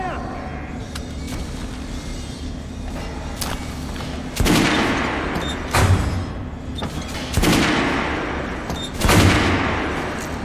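Gunfire in the video game Metro: Last Light, with four heavy, booming shots spaced a second or two apart over a steady rumbling game background, loud and close, with speech-like sounds mixed in.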